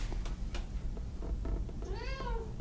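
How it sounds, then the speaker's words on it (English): A house cat gives a single rising-and-falling meow near the end, preceded by faint soft clicks over a constant low indoor hum. "My cat is acting up."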